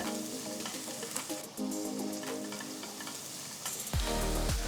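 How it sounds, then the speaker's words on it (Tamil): Steady hissing sizzle of chopped onions frying in hot ghee, with crackling and stirring noises; a louder scrape near the end. "3 மீடியம் சைஸ் வெங்காயம் பொடியை நறுக்குனது சேர்த்து வதக்குங்க"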